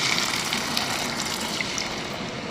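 A can of water poured into a pan of sautéed corned beef with cheese sauce, a steady close gushing splash that runs unbroken for a few seconds with no talk.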